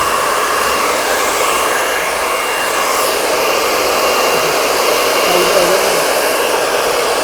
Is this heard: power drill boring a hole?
no